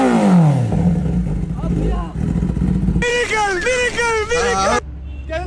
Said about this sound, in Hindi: बाइक मत चला, आवाज तुझे सुनाता हूँ, उसकी आवाज बहुत मस्त है